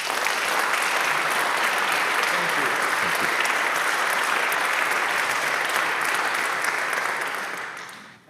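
An audience bursts into sustained, dense applause to welcome journalist Ray Suarez at an evening faith and journalism talk, clapping loud and even for about seven seconds before quickly fading out.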